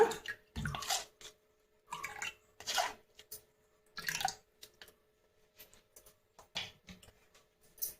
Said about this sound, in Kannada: ಇದಕ್ಕೆ ಸ್ವಲ್ಪ ನೀರನ್ನು ಬೇಕಾದ್ರೆ ಹಾಕ್ಕೊಂಡು ಚೆನ್ನಾಗಿ ಸೋಸ್ಕೊಳ್ಬೋದು.